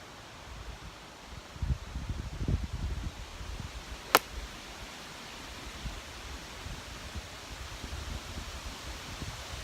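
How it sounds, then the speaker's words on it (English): Strong wind on a golf course buffeting the camera microphone, a steady roaring rush with deep gusty thumps and one sharp crack in the middle, no talking. "I don't know how much longer this camera's gonna hold up with these winds."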